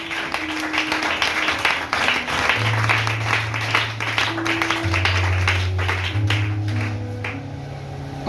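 A crowd at a French-speaking gathering applauds loudly and steadily throughout, a dense wash of clapping with faint sustained musical tones beneath and no distinct cheering voices.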